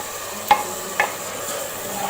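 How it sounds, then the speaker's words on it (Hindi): Beef for nihari frying in ghee in a pot, with a steady soft sizzle and a few distinct scraping stirs of the spoon at regular intervals. "गोश्त फ्राई हो गया।"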